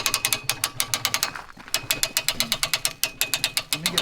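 A hitch-mounted hoist ratchets up to pull the hide off a lamb. It gives a fast, even run of loud, close mechanical clicks, with one brief pause midway.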